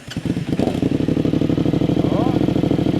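A Yamaha Tenere 700 fitted with an aftermarket full exhaust cranks and starts close by, then settles into a loud, throbbing idle with a steady, slightly lumpy pulse, with no talking over it.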